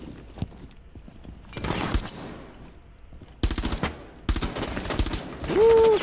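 Bursts of automatic gunfire in the tactical shooter Rainbow Six Siege, fast rattling volleys separated by short pauses, with other game effects and a rising tone near the end.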